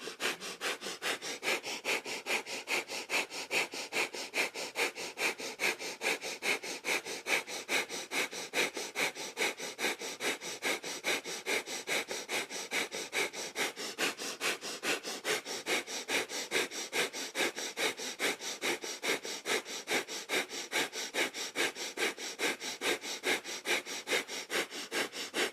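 Breath of fire, a Kundalini yoga breath, is pumped rapidly through the nose in a seated forward bend, a fast, even run of sharp sniffing exhales that holds a steady rhythm for the whole stretch, close and loud without talk.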